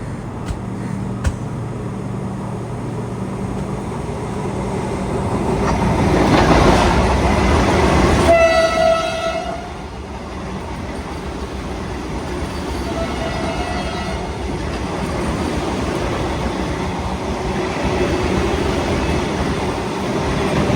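A train rumbles past close by with a loud rising roar, then a long horn blast and clattering wheels as a Vande Bharat train overtakes alongside.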